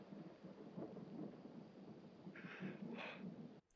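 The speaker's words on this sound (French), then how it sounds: "on commence à entendre le ciel qui gronde" Thunder rumbling low and far off in a Superman film soundtrack, a faint sustained growl with softer rolling swells and a brief hiss near the end, no talking.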